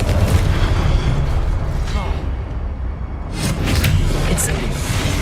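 A Confringo blasting spell explosion in Hogwarts Legacy booms out amid heavy rumbling game noise, with a voice talking over it.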